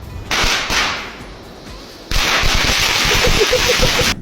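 Fireworks crackle and burst in loud, sharp surges with brief lulls between, ending in a rapid string of crackling pops.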